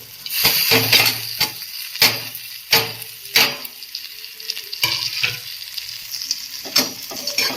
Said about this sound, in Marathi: टोमॅटो छान असे भाजून घ्यायचं